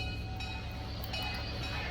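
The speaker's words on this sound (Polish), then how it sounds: "Pociąg odjeżdża." A steady low rumble of a departing video game train in motion (Roblox) with a rolling mechanical drone, continuous and fairly close, with faint higher tones above.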